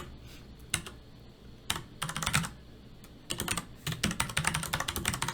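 Keys clatter on a computer keyboard while a code comment is typed, with irregular close bursts of rapid keystrokes separated by brief pauses and no voices.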